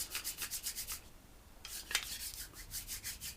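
Motorcycle carburettor needle valve seat being lapped by hand with a cone tool, producing a quiet rhythmic rubbing rasp in repeated short twists with a brief pause, close by with no talking.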